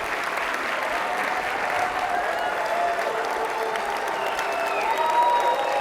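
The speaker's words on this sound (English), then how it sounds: "Let's do some clapping" Sustained applause from an audience at a Stanford faculty talk, steady and fairly loud throughout, a dense crowd of hands clapping together with some faint voices mixed in.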